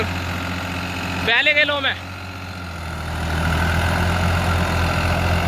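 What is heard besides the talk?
New Holland 3600-2 tractor engine running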